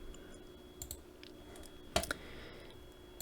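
A single mouse click on a computer while working in AutoCAD, a faint, crisp tick standing out in a quiet room, with a few softer clicks around it.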